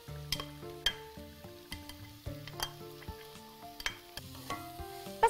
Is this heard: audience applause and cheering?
no